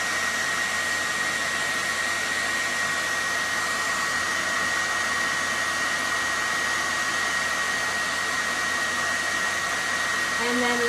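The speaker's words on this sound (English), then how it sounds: "turn on the blow dryer" A handheld blow dryer runs steadily at close range, melting crayons glued to a canvas, its broad whooshing roar unbroken for the whole stretch with a faint tonal whine riding on top.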